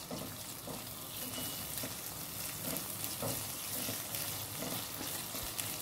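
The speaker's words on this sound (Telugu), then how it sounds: "కొంచెం ఫ్రై అవ్వనివ్వండి." Mustard seeds, cumin, green chillies and curry leaves fry in hot oil for a semiya upma, giving a steady soft sizzle with faint crackles and stirring, quiet and unbroken, no voices.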